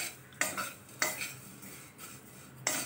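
Vermicelli dry-roasting in a pan, with three or four sharp spatula scrapes and taps against the metal over a soft background hiss, close by with no voices.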